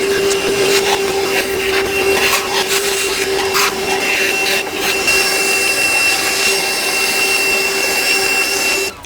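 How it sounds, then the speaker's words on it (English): A vacuum cleaner sucks up rusty debris left from taking apart a modified small block Chevy engine, a loud steady whine with a constant tone and rattling, clattering pickups of grit along the hose. "let's vacuum up this mess"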